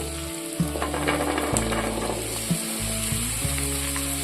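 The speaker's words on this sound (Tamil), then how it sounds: "இப்போ நம்ம ஆல்ரெடி வேக வச்சு ஃபில்ட்ரு பண்ணி வச்சுருக்க கொண்டக்கடலையே சேர்த்துருவோம்" Boiled white chickpeas are stirred into onion and dried chillies sautéing in a pan, producing a continuous close sizzle with repeated spatula scrapes and clinks against the pan, plus a steady background hum.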